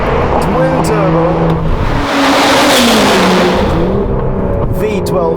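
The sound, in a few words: Aston Martin DBS Superleggera twin turbo V12 engine revving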